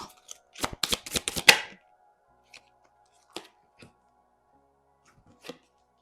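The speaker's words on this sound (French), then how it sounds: "Je pose les cartes et je fais la lecture après." Tarot cards being shuffled, a quick run of crisp riffling flicks up close, followed by a few isolated soft taps as cards are laid down in quiet surroundings.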